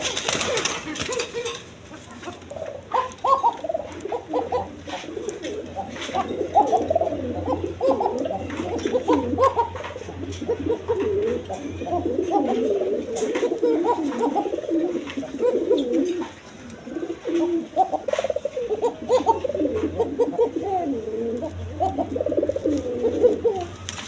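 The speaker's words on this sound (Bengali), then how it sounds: "এখানে এক পেয়ার কোকা কবুতর আছে" A pair of Koka pigeons coo softly and repeatedly at close range, low throaty calls rolling on continuously, with someone speaking over them at times.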